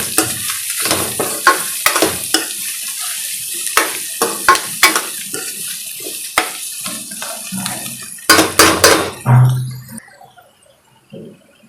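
Fried onions and crushed garlic are stirred in a hot pan, a sizzling bed broken by repeated sharp scraping and clinking strokes of a spoon, growing busier near the end before the noise drops off.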